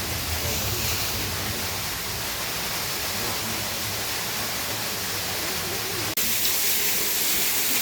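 Water falls steadily along a hiking trail near a temple, making a loud, continuous broadband rush that stays constant throughout, with a brief click partway through and no voices.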